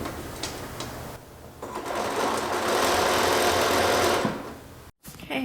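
A sewing machine stitches a shirt seam: a few brief taps and short runs at first, then a steady, loud mechanical whir that builds and holds, then a sudden cut to near silence with a faint clunk at the end.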